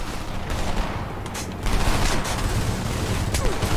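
Sustained gunfire in the video game Homefront, a dense continuous fusillade of many shots blending into a loud roar, with no clear talk over it.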